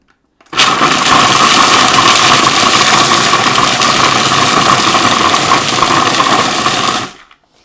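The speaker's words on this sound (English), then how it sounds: "So what we're going to just blend this together." A food processor blends a raw vegan apricot, cacao and Himalayan salt protein bar mix, a loud steady whirring motor running continuously for about six and a half seconds before cutting off.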